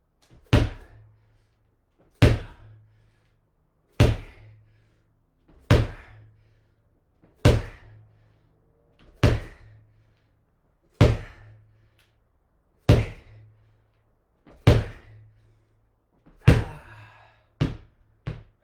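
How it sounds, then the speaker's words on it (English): A weighted ball is slammed against the floor during a workout: ten hard, booming thuds land about every two seconds, each with a short decaying rumble and no talk. "Now we got 10 ball slams."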